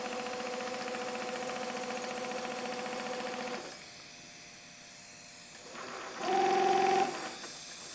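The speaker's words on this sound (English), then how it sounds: "I can stitch a nice straight hemming here with this material." A sewing machine runs steadily while stitching a straight hem, a humming, whirring drone that drops quieter midway, then surges briefly louder before settling again, heard close with no talking.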